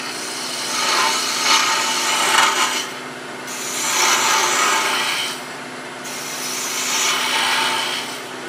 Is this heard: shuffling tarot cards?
no